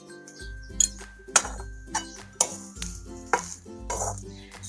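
Cooked chivai wild greens with gram flour being served from a pan onto a plate, with a spoon clinking sharply against metal and dishware about every half second, close and clear.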